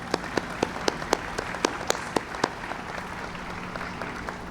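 Scattered applause from an audience at the Damen Green Line station ribbon cutting: a steady run of sharp, distinct claps at moderate distance that thins out and fades toward the end, with no talking over it.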